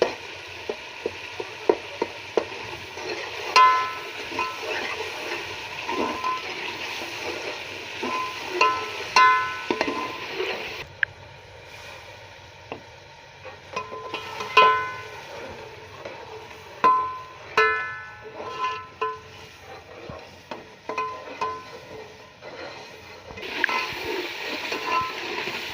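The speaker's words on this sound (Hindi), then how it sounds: "ये देखिए, तकरीबन इसे हमने 2 मिनट तक भून लिया" Chilies, ginger and garlic frying in a pan, with a soft continuous sizzle over a long stretch. Louder spatters and scraping stir strokes break in at irregular moments, all close at hand, and no one speaks.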